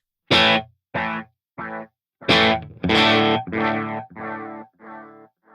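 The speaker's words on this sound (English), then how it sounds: "We'll run through some delay sounds real quick. I'm going to turn it all the way to analog." A distorted electric guitar plays a series of separate notes through a delay pedal on its analog setting, each with a slightly gritty, degraded echoing tail.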